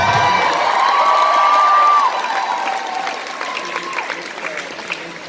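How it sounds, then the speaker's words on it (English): An audience at Anime Fest 2018, an anime convention, breaks into loud, dense applause with cheering and whoops, swelling at first and then tapering off. "Can I get a round of applause?"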